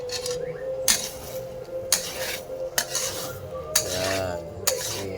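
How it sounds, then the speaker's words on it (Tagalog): A spatula stirs food in a frying pan during basic home cooking, clacking and scraping against the metal about once a second over a low sizzle and a steady hum. "Haluin mo ulit."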